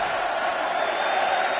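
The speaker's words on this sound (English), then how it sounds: "It certainly sounds like this Phoenix crowd is pumped up" A large arena crowd in the video game WWE 2K20 roars steadily in a dense, continuous wash of cheering at a Phoenix show.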